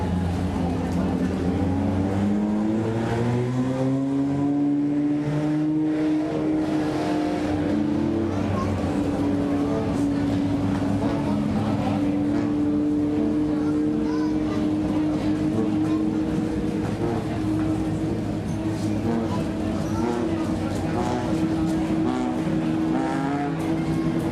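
Compact race cars in a Cellcom Outlaw Compact heat race droning loudly with engine pitch rising and holding, heard continuously under a speaking voice.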